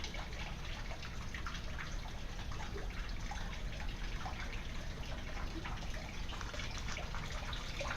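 Water pouring steadily from siphons into tanks in an indoor aquaponics farm, a constant close splashing trickle with no talk.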